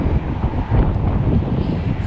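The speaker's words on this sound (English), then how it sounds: "It's a little windy this morning." Steady wind buffets the microphone on a seawall by the sea in Orange Beach, Alabama, a loud continuous low roar with no pauses.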